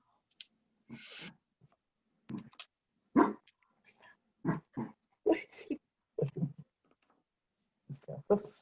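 A puppy barks in short yips and bursts scattered across several seconds, close by and fairly quiet, with people talking around it in a home crafting setting.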